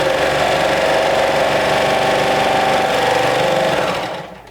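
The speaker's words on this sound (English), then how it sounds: "Now I'm going to go and run the raw edges of the pockets through my serger just to finish the raw edges." A serger overlocking the raw edges of fabric shirt pockets runs as a steady, continuous mechanical whir up close for about four seconds, then slows and stops.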